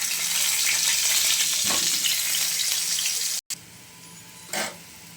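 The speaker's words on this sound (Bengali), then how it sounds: "আমি এখানে ডিমের আলুগুলো ভেজে নিলাম।" Potatoes for an egg curry fry in oil left over from frying pumpkin, a loud, steady, close sizzle that breaks off abruptly, then returns quieter with a brief louder flare near the end; no voices.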